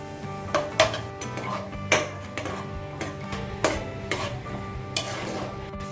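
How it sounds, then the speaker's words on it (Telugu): Raisins are fried in a pan with cashews and almonds: a spoon clinks and scrapes against the metal pan in irregular taps over a soft, faint sizzle, with no talking. "దీంట్లోకి కిస్మిస్ కూడా వేసుకొని వేపుకోవాలండి."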